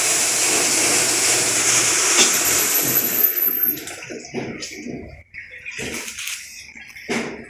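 Water drains out of a Sharp automatic washing machine, a steady loud rushing hiss that cuts off after a few seconds, followed by scattered gurgles, drips and clunks.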